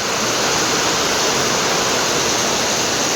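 Heavy rain lashes and splashes in at the front of a Thai-Lao village house, a loud, steady broadband wash with no breaks, alone and close, like a constant downpour.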